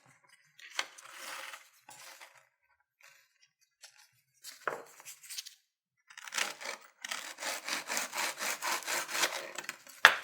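A graham cracker piece being cut to size for a holiday gingerbread-style house, heard as scattered short scraping strokes that build into a steady run of rhythmic rasping sawing near the end, close and fairly quiet with no talking.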